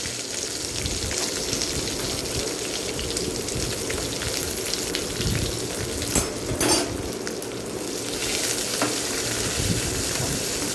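Small shallots sauté in oil in a pan while okra sambar is being made, giving a continuous close sizzle and crackle that holds steady throughout with occasional scraping stirs and no speech.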